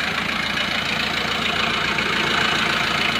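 A Jeep Wrangler Sport with a C240 engine idles steadily nearby, a loud, constant mechanical drone with a faint rhythmic knock running through it and no talking.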